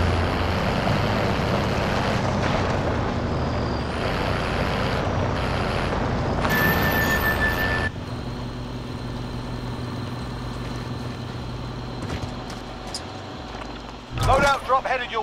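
Vehicle engine drones steadily while driving in Warzone, with rumbling and wind-like noise throughout, a brief shift in tone midway and a few louder bumps near the end; voices talk over it.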